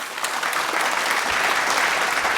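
Loud, sustained applause from a studio audience on a game show, dense clapping that fills the whole moment without a break.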